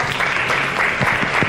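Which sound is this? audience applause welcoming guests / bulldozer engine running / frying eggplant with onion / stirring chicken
audience applause welcoming guests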